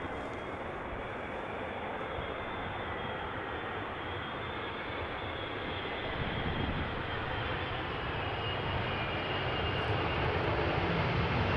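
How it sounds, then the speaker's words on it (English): A KLM Boeing 777 airliner arriving from Lima lands at Amsterdam Schiphol in gusty crosswind conditions, its engine roar broad, steady and loud throughout, swelling slightly toward the end, with no talk over it. "Triple seven time. Arriving from Lima in Peru. KLM flight 744."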